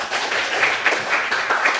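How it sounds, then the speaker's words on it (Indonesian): Pupils in a classroom clap briefly for a classmate, a short burst of dense, close hand clapping. "ada tepuk tangan dulu buat Risa"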